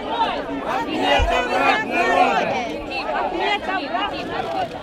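A large crowd in Donetsk chatters and murmurs in a dense, steady babble of many voices at close range, a few louder voices rising above the hubbub.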